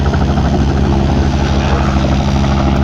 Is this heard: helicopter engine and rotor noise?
yes